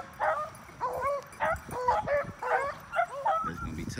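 Beagle hounds bay and yelp in a series of short cries while hunting on a field trial course through low grass, moderately near, repeated about every half second.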